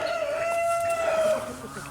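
A rooster crows near a goat shed outdoors, one drawn-out call lasting over a second and fading at the end, with soft background hiss and no talking.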